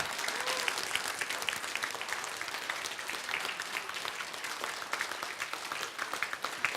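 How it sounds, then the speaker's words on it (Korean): Audience applause fills a health seminar hall, a dense, steady wash of many hands clapping at close range that holds evenly throughout without talk over it. "박수."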